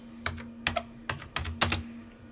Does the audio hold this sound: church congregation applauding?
no